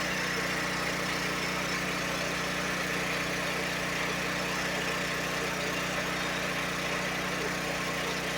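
A Duromax 13000 dual fuel generator runs on propane, a steady droning engine hum with constant vibration at close range throughout.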